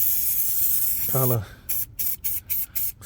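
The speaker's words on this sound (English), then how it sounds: "I am going to spray some rust reformer on it, just for the time being" Rust reformer sprayed from an aerosol can onto a rusted car floor pan, heard as a loud steady hiss followed by several short bursts in quick succession, with a brief spoken phrase early on.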